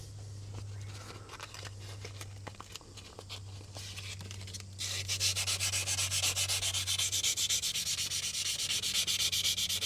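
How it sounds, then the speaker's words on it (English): Sandpaper rubs back and forth over rusty metal on a Detroit Diesel two-stroke 6x6 truck, first as quieter strokes over a low hum, then as loud, fast, continuous scratchy sanding close by. "I just finished it off with a bit of sandpaper."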